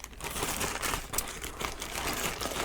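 A big plastic shipping bag from an online haul being cut open and handled, with steady close crinkling and rustling of the plastic throughout.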